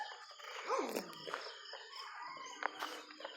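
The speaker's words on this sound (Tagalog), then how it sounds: "May aso po dun." A dog outdoors on a damp morning after rain, giving a short whimpering howl and a few yelps at moderate distance among faint outdoor noise.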